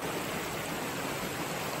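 A lot of water rushes steadily at the bottom of a canyon, making a dense, loud, unbroken roar with no voices.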